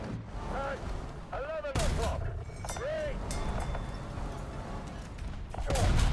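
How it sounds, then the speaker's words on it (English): Pea shooter gun firing in a video game, several sharp loud blasts spaced irregularly among lighter clatter, with a voice talking over them. "My pea shooter gun's going to start firing again in a second."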